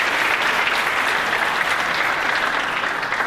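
A conference audience applauds in a dense, steady wash of hand claps that stays even and loud from start to finish.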